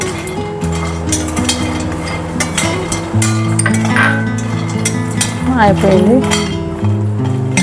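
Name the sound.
dry-roasting cashews, walnuts and pistachios in a pan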